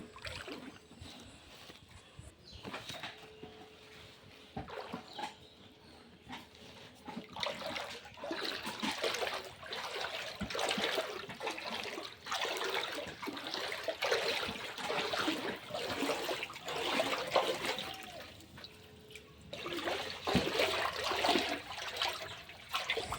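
Floodwater in a flooded village sloshes and trickles, with irregular splashing and gurgling movement through the water at moderate loudness, and no talk.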